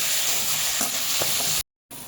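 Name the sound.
garlic paste and ginger frying in oil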